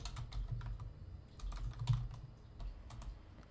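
Quiet clicking of typing on a computer keyboard: a close, irregular run of soft key taps with no talk.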